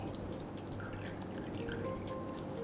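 Sunflower oil trickles out of a can of tuna steak, held back by its lid, in a faint, close stream of small drips and liquid spatters that runs continuously for a couple of seconds.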